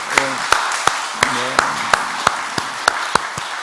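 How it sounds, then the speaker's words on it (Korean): Congregation members at an early-morning Monday church service give a sparse round of applause, about ten distinct claps spaced out at a slow, uneven rhythm, with a brief voice near the start. "하나님께 영광의 박수를 올리겠습니다"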